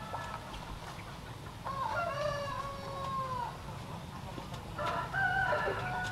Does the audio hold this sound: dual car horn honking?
no